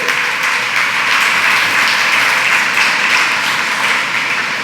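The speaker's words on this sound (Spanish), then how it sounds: "Denle un aplauso fuerte." Steady, dense applause from a church congregation, many hands clapping at once and filling the sanctuary at an even loudness throughout, with no voices over it.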